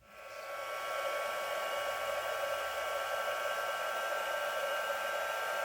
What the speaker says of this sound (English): When you use the heat tool, it actually melts the powder.